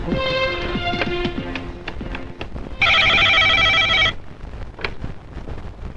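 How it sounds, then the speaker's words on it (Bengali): A telephone rings with a loud trilling electronic burst lasting over a second, preceded and followed by assorted clatter and knocks. "এই শহীদ আলী খারে ফোন লাগা।"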